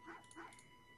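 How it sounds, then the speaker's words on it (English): A robot dog in a space survival video game lets out two short, faint barks, spaced about a third of a second apart and followed by quiet. "It barks."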